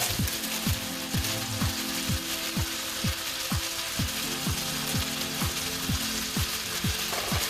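Snap peas and other hard vegetables sizzle steadily in a frying pan, a continuous close frying hiss with a regular series of scraping clicks running through it, no voices.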